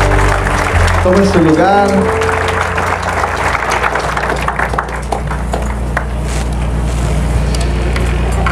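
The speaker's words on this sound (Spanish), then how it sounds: "Dele un fuerte aplauso a Dios, hermano." A church congregation claps loudly for a few seconds before the applause fades, with a preacher speaking over and after it.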